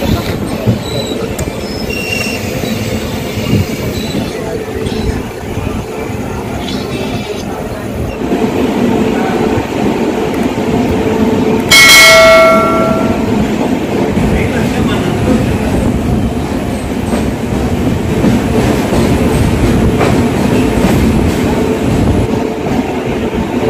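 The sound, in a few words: Tirumala Express train running on the rails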